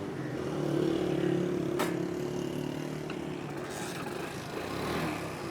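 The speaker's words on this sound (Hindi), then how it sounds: "अब इंजन पे स्टार्ट करते हैं।" Honda Pridor hybrid-converted petrol-electric motorcycle with its petrol engine cranking to life and then settling into a steady idle, a continuous low engine rumble heard close and fairly loud with no talk.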